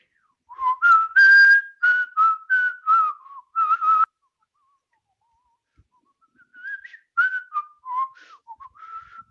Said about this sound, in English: you guys just got a nice little taste of his whistle